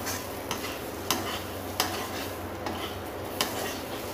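Rice and mung lentils are dry-fried in a pan with a faint sizzle. A spatula scrapes and taps against the metal in sharp, irregular clicks roughly every half second to second. The sound is quiet and close, with no talking.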